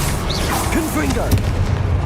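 Confringo spell blast from Hogwarts Legacy, a loud booming burst set in a busy, noisy scene, with a voice heard over the effects.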